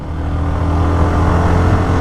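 Hero Xtreme 125R motorcycle pulling hard in fourth gear on an open road, a steady, loud engine drone with strong low harmonics and continuous wind rush, no talking over it.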